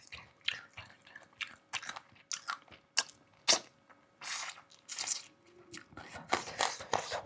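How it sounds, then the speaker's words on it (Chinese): Crunchy chicken-feet cartilage being chewed close to the mic in a series of crisp, irregular crunches and snaps with brief pauses, fairly quiet and mostly on its own, with a few faint breathy sounds between bites. "这个脆骨嘎嘣脆"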